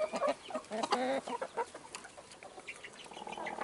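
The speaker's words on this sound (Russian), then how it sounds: "Куры ели арбуз, кавуну, цыплята тоже там, кто смог, кто захотел." Chickens and chicks clucking near at hand while they peck at watermelon on a farm, with irregular bursts of clucks and short calls, some faint wing flaps, and no talk.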